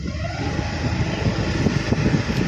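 A two-wheeler carrying a passenger on the back is ridden over a rough, potholed road. Its engine and road noise form a steady, close, continuous rumble.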